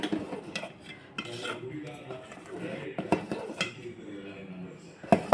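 A spoon scrapes and knocks around a pot while a kambu (pearl millet) mixture is stirred, giving irregular clinks and rubbing strokes with a few louder metallic knocks near the end.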